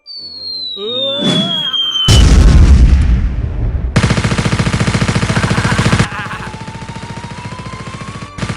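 Free Fire video game combat: loud rapid bursts of automatic gunfire and heavy booming grenade explosions follow a rising whistle, with dense rattling fire continuing throughout and a faint tone underneath.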